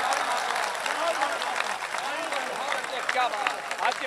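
Sustained applause from an audience at a Hindi-language speech or poetry gathering, a dense steady patter of many hands with no talk over it.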